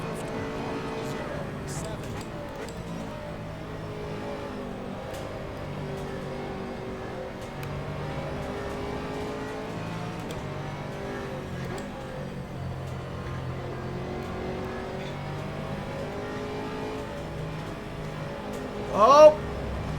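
GT3 racing cars in the rFactor 2 sim, with a Corvette right behind, produce a continuous engine drone with rising and falling revs and a sharp burst near the end.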